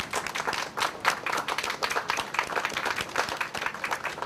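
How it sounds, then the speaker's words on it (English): An audience claps for award winners at a 2010 art show in Menomonee Falls, a sustained round of fairly distant, moderately quiet applause with distinct individual claps throughout. "Please give a round of claps."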